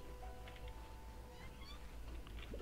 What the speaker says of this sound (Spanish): Este gato es el que cuida todo aquí.